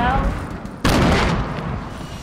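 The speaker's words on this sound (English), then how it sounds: "We just got nade killed." A sudden loud blast in the game Fortnite as a grenade goes off, a sharp broadband burst that decays over a second amid ongoing game noise and voices.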